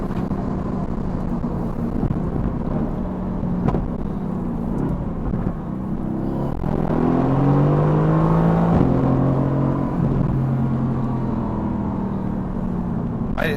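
A Mercedes-AMG GT S in race mode revs hard from inside the cabin. A steady engine drone builds to a rising, howling rev around the middle, then settles back to a loud sustained hum.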